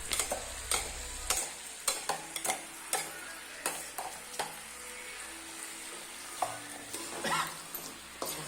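Ground masala is stirred into a country chicken curry in a pan, with repeated scraping spoon strokes over a steady close sizzle of frying.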